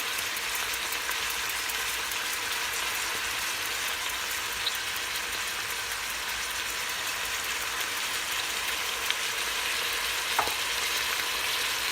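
Vegetables sauté in an Instant Pot with a steady, even sizzle and a faint crackle throughout, close by and continuous, with an occasional small tap of stirring.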